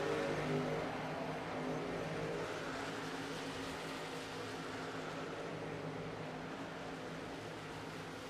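Race trucks run on a track, producing a continuous engine drone that holds steady at moderate distance, slightly fading toward the end, with no talking.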